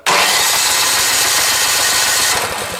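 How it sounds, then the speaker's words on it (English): A small snow blower engine sputters to life and immediately roars at high, steady revs, loud and close, easing slightly near the end. "now I start this my engine"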